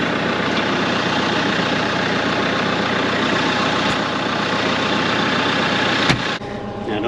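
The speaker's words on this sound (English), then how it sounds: "Let's get the tractor moved back home." A farm tractor engine runs steadily and fairly loud, close by, with a constant low idling rumble that holds for most of the stretch before a brief change near the end.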